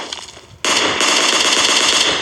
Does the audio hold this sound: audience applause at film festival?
no